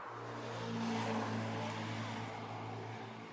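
A car drives along a road in western Ukraine, a steady low engine hum and tyre rumble heard from inside the cabin, swelling slightly then holding even.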